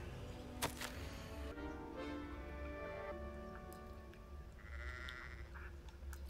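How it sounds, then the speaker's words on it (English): Sheep in the Hogwarts Legacy video game bleat in several clear, close calls over steady game ambience, with a bright chime-like effect appearing near the end. "You're distracted with the sheep who may or may not be George, a student."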